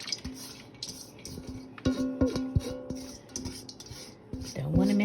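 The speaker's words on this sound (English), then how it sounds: "make sure I can scrape out all that good stuff in there" Utensil scraping pumpkin spice vanilla granola mixture out of a bowl, with a run of clinks, taps and rubbing scrapes against the bowl's sides, close and moderately loud.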